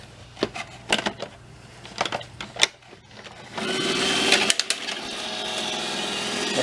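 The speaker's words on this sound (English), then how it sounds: "That wakes the Roomba up." An iRobot Roomba e5 robot vacuum wakes on its charger: a few sharp clicks and taps, then a sustained whirring mechanical hum starts and holds to the end.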